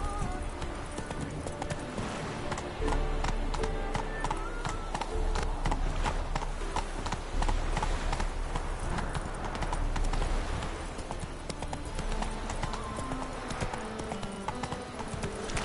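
Galloping horse hooves from the video game Witcher 3, a fast continuous clip-clop rhythm that stays loud throughout and blends with game background sound.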